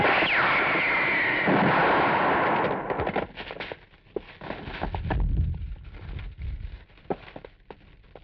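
Movie gunfire after an order to fire, a dense loud volley of shots and blasts at first, thinning into scattered sharp reports and rumbling echoes.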